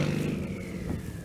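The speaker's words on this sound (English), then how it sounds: "That Tony exhaust" Car exhaust rumble from a modified car with a Tony exhaust and a new diffuser, fitted with air suspension and Air Lift Performance 3P management, as it pulls up nearby. The rumble is steady and fairly close, with no voices over it.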